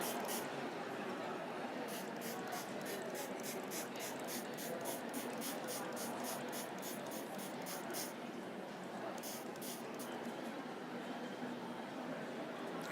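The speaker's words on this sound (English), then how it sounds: "So these are just dampened cotton pads. We'll just stop any of the neutralizer spray going into her eyes." A neutralizer spray mists over a face during a skin peel treatment, quick repeated hissing pumps in a steady run, then a short second burst, soft and close over room noise.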